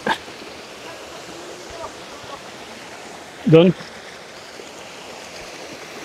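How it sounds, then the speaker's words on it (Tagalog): Pinagsabangan river flowing at the bottom of a waterfall in Bailen, Cavite, a steady broadband rush of water heard nearby, with a brief spoken word cutting in midway. "Ito yung pinakababa niya, ilog."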